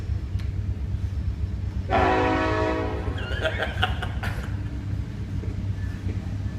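A train horn toots out once, a sustained harmonic blast lasting about a second, over a steady low rumble, followed by a few fainter higher tones; no one talks.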